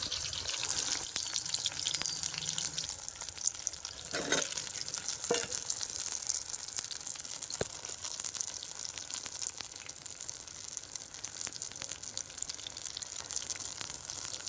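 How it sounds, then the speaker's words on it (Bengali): Ground spice paste with fennel seeds being sautéed with fried potato and eggplant for a fish curry, a steady close sizzle with scraping stirs running throughout, no voices. "এবার আমি মশলাগুলো ভালো করে এই সবজির সাথে কষিয়ে নেব"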